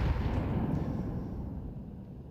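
A frag grenade detonates in a Counter-Strike match, heard as a loud, close low-end boom with a rumbling tail that stays dense and steady for a couple of seconds, with no talk over it.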